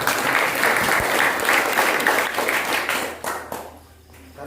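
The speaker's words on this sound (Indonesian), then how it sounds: "Tepuk tangan buat Pak Gisang." Applause for Pak Gisang at a communal fast-breaking gathering of a farmers' group, a lively burst of many hands clapping that thins out and fades toward the end.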